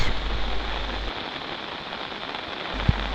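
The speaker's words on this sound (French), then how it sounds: "Les jardins de Sigiriya, sous la pluie." Steady rain hisses evenly on surfaces nearby in the Sigiriya gardens, Sri Lanka, a continuous wash of patter with one brief sharp tap near the end.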